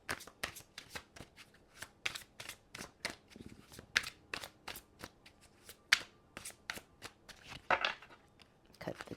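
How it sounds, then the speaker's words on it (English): Someone shuffles an oracle card deck by hand in a steady run of crisp, rhythmic riffles and slaps, close and clear, continuing for about nine seconds with no talking. "Cut the deck."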